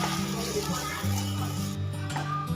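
Grated carrot stirred in hot ghee gives a steady, close frying sizzle with low humming harmonics and slight clatter, continuous throughout.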